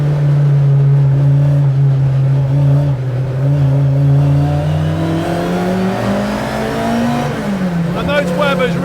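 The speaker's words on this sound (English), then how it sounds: "Those Webers really start barking when you go in a little bit harder." A Ford Mk1 Twin Cam Escort engine breathing through Weber carburettors, a steady loud drone that climbs in pitch as the revs rise, with a sharper rasp toward the end.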